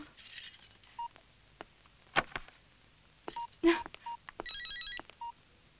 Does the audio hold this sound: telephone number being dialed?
yes